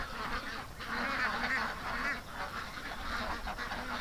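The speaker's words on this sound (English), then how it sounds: "All the ducks are on this side of the pen." Ducks crowded to one side of a pen at lock-up time give off a steady, fairly close stream of honking quacks and gabbling, continuous for several seconds with no talk.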